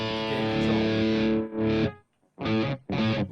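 Heavily distorted electric guitar chords through a Spark amp ring out loud and thick, then cut off into a few short, gritty stabs separated by brief silences.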